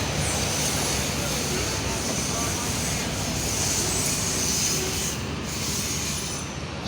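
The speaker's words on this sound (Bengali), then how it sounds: "এক্সপ্রেস ট্রেনটি কোর্সিং দিল" An express train rumbles past close by at night, a dense continuous roar of wheels on rails with faint squealing, steady and loud throughout.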